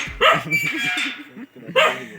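A dog barks sharply close by at a gate as it is opened, a few quick yelping barks in a short burst, then one more loud bark after a brief pause.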